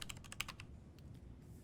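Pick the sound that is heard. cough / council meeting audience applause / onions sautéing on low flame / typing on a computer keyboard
typing on a computer keyboard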